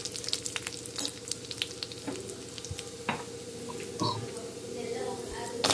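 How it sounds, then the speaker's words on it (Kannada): Cashews fry in hot oil for a coconut rice tempering, a close, crackling sizzle with bursts of spattering and stirring, while a voice is heard faintly at times. "ಗೋಡಂಬಿ ಚೆನ್ನಾಗಿ ಫ್ರೈ ಮಾಡಿ ಇದ್ರ ಜೊತೆ ನಾವು ಸ್ವಲ್ಪ ಫ್ರೈ ಮಾಡ್ಕೊಳ್ಳೋಣ"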